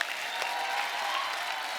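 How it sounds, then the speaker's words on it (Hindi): Studio audience on a Hindi comedy talk show breaks into loud, sustained applause, a dense wash of clapping heard close throughout. "एक बार जोरदार तालियां उनके लिए।"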